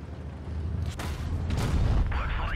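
A tank cannon shot bouncing off an enemy tank in a tank battle game, heavy booms and a sharp crack over a low engine rumble.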